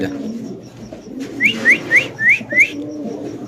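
Pigeons kept for sale in Bangladesh coo in a quick series of five short rising calls, close and clear over a low background murmur.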